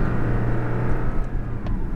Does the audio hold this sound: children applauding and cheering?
no